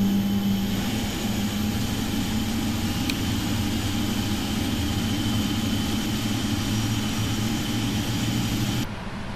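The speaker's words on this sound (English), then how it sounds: "Okay, both engines are stabilized." PMDG Boeing 777 jet engines idling steadily on the ground in Flight Simulator X, a continuous loud whine and low rumble with a constant tone throughout, cutting off abruptly near the end.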